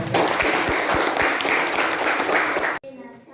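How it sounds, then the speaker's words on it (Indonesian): Applause from an audience at a school event, a dense wash of clapping with a few sharper individual claps standing out, cutting off abruptly near the end into near silence. "Silakan tepuk tangan aplaus."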